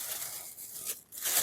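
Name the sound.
plastic bag crinkling as dough bag is packed with ice bottle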